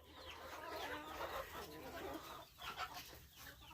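Farm chickens cluck softly and intermittently in an outdoor coop, a faint, busy murmur of hens with some background noise.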